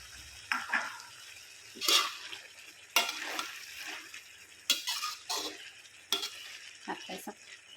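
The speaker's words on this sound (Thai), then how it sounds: "นี่นูก็จะใส่ผักที่ใช่ลงไปนะคะ แล้วเราก็จะผัดไม่นานนะคะ" Vegetables and garlic chives are stir-fried in a pan, with a soft background sizzle broken by sharp, irregular scraping strokes of a utensil against the metal, close and without talk.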